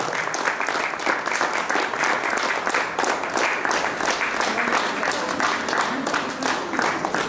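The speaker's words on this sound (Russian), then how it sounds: "под ваши громкие аплодисменты мы готовы начинать" Steady, dense applause from an audience at a preseason press conference for the Tulitsa volleyball club, continuous and fairly loud throughout with a faint voice or two underneath.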